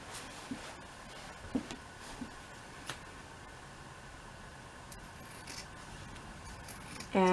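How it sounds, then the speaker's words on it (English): Scissors cutting batting for a rocking chair cushion, a few faint, scattered snips and soft clicks over quiet room noise, ending in a brief louder tone. "Cut out some batting"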